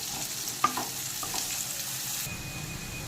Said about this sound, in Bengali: পেঁয়াজটা সামান্য একটু ভেজে নেব